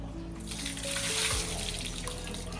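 Water poured from a bucket while a child bathes, a steady close splashing wash of running water that swells in the middle and then settles into a continuous pour.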